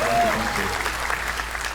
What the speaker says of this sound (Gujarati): પ્રિન્સ ગુપ્તા માટે તાળીઓ થઈ જાય